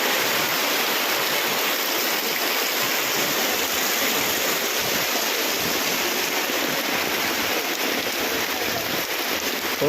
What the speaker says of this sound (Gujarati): વરસાદ છે, બહુ ભારે વરસાદ છે યાર